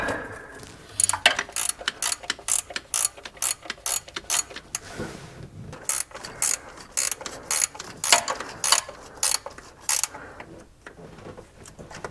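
A hand ratchet clicks in quick bursts of sharp strokes, pausing and resuming, while tightening a bolt during installation of a diesel lift pump; close and fairly loud, with no talking.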